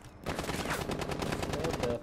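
Rapid gunfire from Rainbow Six Siege, a tactical shooter game, fills the clip as a dense run of close, loud shots, game sounds and a faint voice beneath.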